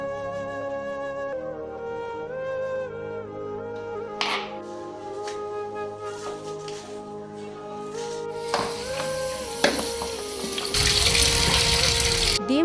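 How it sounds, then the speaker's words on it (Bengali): Running tap water pours over two bunches of cut coriander leaves as they are washed in a kitchen sink, a steady gushing stream that grows louder and more splashy toward the end, with music playing underneath. "প্রথমেই 2 আঁটি ধনেপাতা এইভাবে কেটে ভালো করে ধুয়ে নিচ্ছি।"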